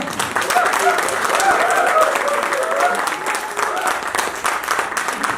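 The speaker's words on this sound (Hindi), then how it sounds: "उनके लिए ऐसी जबरदस्त तालियां बजेगी क्या?" Crowd applause at a K2pools achievement event, a dense, sustained clapping roar that stays loud for several seconds, with voices and cheering mixed into the noise.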